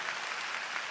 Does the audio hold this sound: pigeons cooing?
no